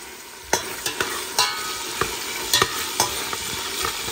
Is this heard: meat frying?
yes